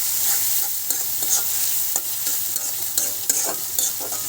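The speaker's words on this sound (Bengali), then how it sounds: "শুধু পেঁয়াজটা আর একটু মচমচ আর একটু ভাজি হলে টমেটো দিয়ে দেবো" Onions sizzle in oil in a pan while a spatula scrapes and stirs them in repeated strokes, a steady close frying hiss broken by rhythmic scraping, no voices.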